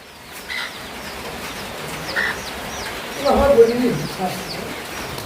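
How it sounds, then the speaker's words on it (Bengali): Free-range country chickens with chicks kept inside a bakery, clucking and peeping intermittently at close range, with a brief burst of louder clucks midway over a steady background hum. "এটা আর একটা দেখি মুরগির বাচ্চা"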